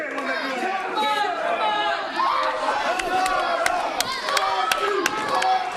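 Wrestling fans in an old-school match crowd clap and cheer, a dense, lively wash of shouts, whoops and chatter with sharp claps scattered through, close and continuous.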